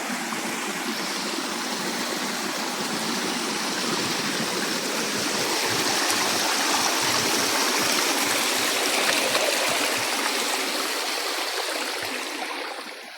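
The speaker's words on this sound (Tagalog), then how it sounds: "Ay, kalami sa tubig." Mountain stream water flowing steadily on a hike, a dense, continuous rushing wash that holds level throughout, near and fairly loud, with no voices.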